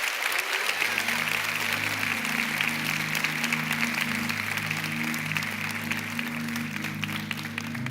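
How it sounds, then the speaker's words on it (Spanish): Church congregation applauding steadily throughout, a sustained wash of clapping with a low musical or organ-like hum beneath and some voices mixed in. "Cuántos le dan ese fuerte aplauso a Cristo y dicen aleluya"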